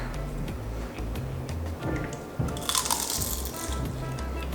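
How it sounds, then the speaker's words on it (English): A bite into piping-hot homemade fried lumpia gives a short, crisp crunch partway through, over a steady background hum and faint ticking. "We got crunch."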